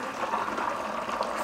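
Distilled water pours from a jug into a burette in a soft, steady trickle and gurgle, faint and close, with no talking over it.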